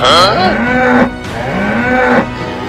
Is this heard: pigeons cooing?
no